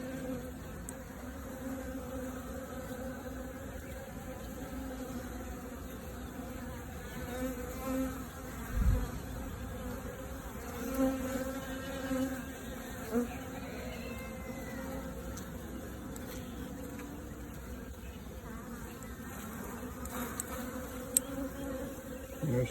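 A dense, steady buzzing hum of a honeybee swarm being caught fills the air at close range, with a few faint higher flutters drifting through.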